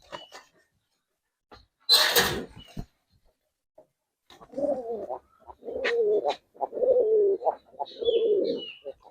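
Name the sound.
Giribaz and coloring pigeons cooing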